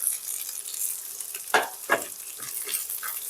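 Vegetables for a Malabar spinach dish fry in a pan with a quiet, even sizzle, broken by a few sharp scrapes and knocks of the spatula as they are stirred.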